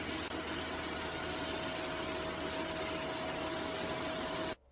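A robot mop running with suction and water flow both at their highest settings gives a steady, loud, continuous whir with a constant pitched hum, ending abruptly near the close.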